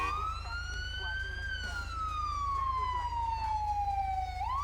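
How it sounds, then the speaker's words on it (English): A police siren from an emergency vehicle in the video game GTA 5 sweeps in a single long, clear wail that rises, then slowly falls and starts climbing again over a steady low hum. "When the lights are active and no siren is playing, tapping the horn will activate the siren."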